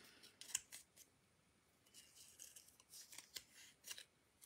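Small pair of scissors snipping paper during handmade card making with a Stampin' Up kit, a series of crisp, quiet snips spaced irregularly, close and alone.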